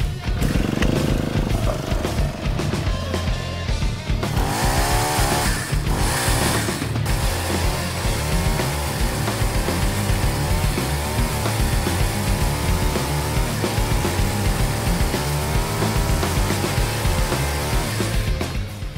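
Small engine of a pole pruner attachment running and cutting, a loud steady motor drone that holds throughout with pitch wavering as the chain bites, close by and alone with no talk.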